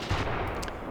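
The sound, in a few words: incendiary artillery strike firing, from video game Graviteam Tactics Mius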